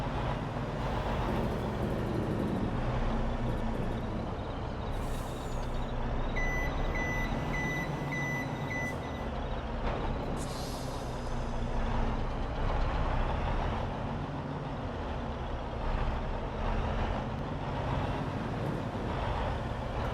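A tractor in Farming Simulator 22 reverses toward a trailer over a steady engine drone, with a short run of evenly spaced reversing beeps sounding partway through.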